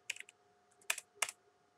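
Brief clusters of key clicks on a computer keyboard come in three quick bursts with short pauses between them, faint and close in a quiet room with no talk.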